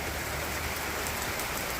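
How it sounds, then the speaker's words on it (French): Rain falls steadily on a wooden deck by a pool patio, a dense, even hiss of drops spread across the surface with no let-up. "Maintenant, il pleut. C'est pas rien qu'un peu."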